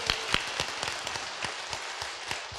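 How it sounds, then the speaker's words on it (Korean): An audience at a Buddhist temple ceremony applauding, many hands clapping in a dense crackling burst with a few sharper individual claps standing out, steady and fairly loud throughout. "오늘 이 자리에서 박수 한번 보내주시면 고맙겠습니다"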